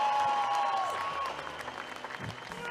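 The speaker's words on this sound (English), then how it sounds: "Give her a big round of applause" Audience applause at the Calgary Stampede during a Cowboy Up! finals event, a broad wash of clapping that is loud at first and then settles into a steady, slightly thinner patter, with a brief tone trailing off early.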